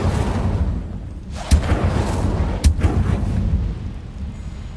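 An Incendio fire spell is cast in Hogwarts Legacy, with two sharp bursts and whooshing flame over a loud, rumbling game soundscape.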